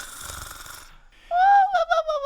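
A voice imitates two queens snoring loudly, giving a rough breathy snore and then a high, wavering whistle-like exhale, close and fairly loud.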